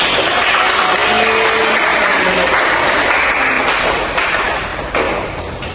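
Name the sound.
audience applause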